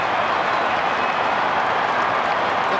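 A huge stadium crowd at the MCG roars and cheers steadily after Jason Dunstall kicks his 100th goal for Hawthorn, a dense, unbroken wall of noise with clapping mixed in.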